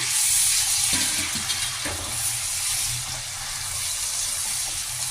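Chopped tomatoes and onions fry in a pan for palak paneer, giving a loud, steady hiss with a few thuds and scrapes of stirring near the start, and no speech.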